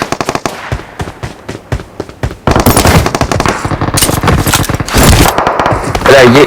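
Rapid bursts of video game automatic gunfire crackle loudly and almost continuously, growing denser partway through, with a voice briefly heard near the end.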